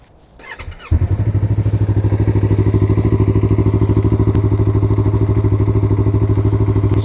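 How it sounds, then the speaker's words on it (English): A Yamaha MT-03 motorcycle engine cranks briefly, then fires and settles into a steady, loud, rhythmic idle close by, with no voices over it. "But what about if I start the bike?"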